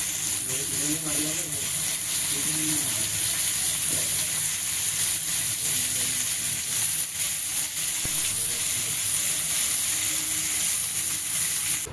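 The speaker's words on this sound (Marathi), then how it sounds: "भाजून घेऊया फटाफट." Pomfret fish frying in a pan gives a steady, loud sizzling hiss that runs unbroken for the whole stretch, with faint murmuring voices underneath.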